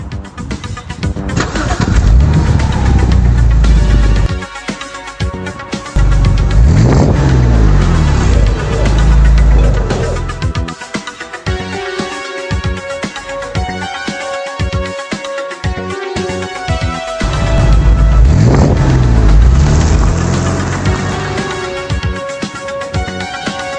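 Knight Rider's KITT car drives and revs its engine, loud and close, with strong surges and a sweeping rise and fall of engine pitch across the stretch, with a quieter rumbling lull in the middle.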